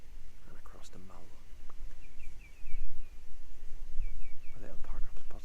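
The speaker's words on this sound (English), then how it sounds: "You can probably hear the wildlife calling in the background." Wild birds call along an estuary at a quiet park-up spot near Oban in Scotland, a few short high chirps in two brief bursts, faint and distant beneath soft nearby talk.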